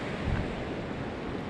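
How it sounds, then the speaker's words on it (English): Rapid river water rushes at the junction of the Ware and Swift Rivers, a steady, loud broadband roar with some wind buffeting the microphone and no talk. "the water is quite rapid around here because all this water coming in and start to fall"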